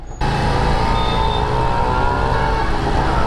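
A Harley-Davidson motorcycle engine runs steadily while the bike rides through Mumbai traffic, a low, even rumble that starts abruptly and holds constant, close and loud, with no one speaking.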